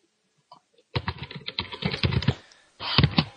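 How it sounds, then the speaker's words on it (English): Loud typing on a computer keyboard, a dense burst of close rapid key clicks after a brief pause, then another flurry. "You got some loud ass typing, Chew."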